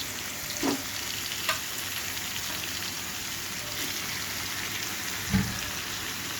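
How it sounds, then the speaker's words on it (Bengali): Meat frying in a pan for an egg and meat curry, a steady close hiss of sizzling oil throughout with a few sharp stirring knocks, no talking. "যে মাংসটা সুন্দর করে কষিয়ে নিচ্ছি"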